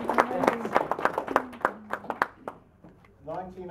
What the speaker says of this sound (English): You should probably clap Julia Varley on.